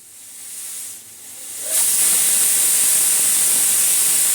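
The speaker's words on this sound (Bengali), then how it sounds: "এবার আমি 3টে সিটি দিয়ে নেব" Pressure cooker on the stove cooking vegetarian Bengali khichuri, starting with a soft steady hiss that suddenly swells into a loud, continuous rushing steam whistle, close and unbroken.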